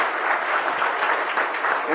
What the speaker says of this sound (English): Can we have a round of applause for Rohit Sharp?